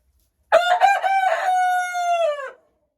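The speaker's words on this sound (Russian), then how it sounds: "А ну закукарекай, красавец ты мой." A single loud, close rooster crow rises out of silence and holds for about two seconds before trailing off, a cross of a local breed with a Marans.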